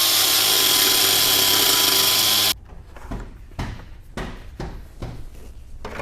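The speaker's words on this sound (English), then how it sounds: "we're just going to trim that tang off with a grinder and a cutoff wheel" A grinder with a cutoff wheel cuts through a metal tang on a 2005+ Toyota Tacoma skid plate: a loud, steady high whine for a few seconds, then it stops abruptly, leaving softer clunks and handling noises.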